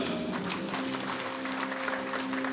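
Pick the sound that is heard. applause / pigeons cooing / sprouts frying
applause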